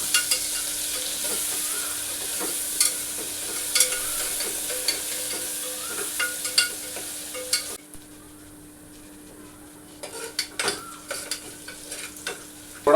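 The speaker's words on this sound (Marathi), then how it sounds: "थोड़ा सा कांदा फ्राई कर लेना है." Chopped onion with asafoetida frying in a pan over a lowered gas flame for khichdi gives a steady close sizzle with scattered spoon clinks, then quietens sharply partway through before light stirring clicks return.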